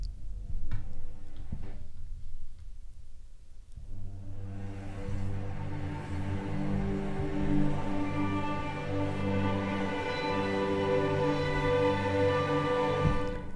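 Sustained string note from the Spitfire Audio Cinematic Frozen Strings library played live, a soft shimmering held tone with animated motion that swells in after a few quiet ticks and holds steadily to the end.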